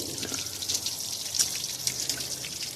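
Water trickles and drips steadily while a car heater core is flushed out, a faint, continuous splashing wash with scattered brighter drip hits and no voices.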